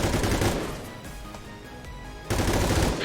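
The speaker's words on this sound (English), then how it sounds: "Gonna move to here and shoot." Gunfire in the video game XCOM 2: a loud rattling burst of shots at the start fades into a low rumble, followed by another sharp burst near the end.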